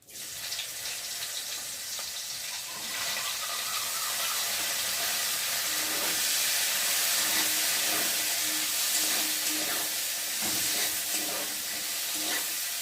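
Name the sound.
bitter gourd pieces frying in oil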